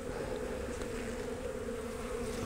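Honeybees buzz steadily around an open beehive brood box during a spring frame rotation, a dense, close, continuous hum of many insects with no speech.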